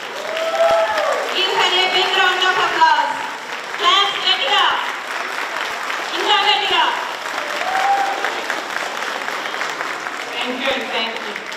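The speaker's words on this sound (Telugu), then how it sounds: "అందరం కలిసి జ్యోతి గారిని స్టేజ్ మీదకు చప్పట్లతో ఆహ్వానిద్దాం" An audience claps steadily at a school's 16th anniversary function to welcome a staff member onto the stage, a dense wash of applause running continuously with voices and cheering mixed in over it.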